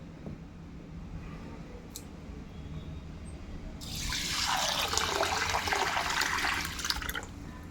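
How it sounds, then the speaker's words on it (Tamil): Water pours over washed ration rice in a vessel to soak it for idli, a broad splashing gush starting partway through and running steadily to the end over a quiet background. "இப்போ நம்ம தண்ணி ஊற்றி ஊற வச்சுக்கலாம்."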